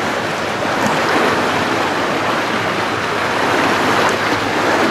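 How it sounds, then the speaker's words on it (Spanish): Water rushes steadily through purification filters at a water treatment site, a loud, constant close-up roar with no pauses and no voices. "La verdad, el sonido del agua siempre es encantador"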